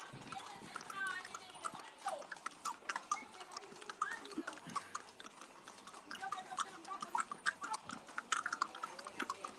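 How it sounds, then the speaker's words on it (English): Horses' hooves clip-clop steadily in a religious procession returning a Virgin image to a hermitage in Robledo, a continuous run of light, irregular clacks at moderate distance, with people talking nearby throughout. "Look at these little horses."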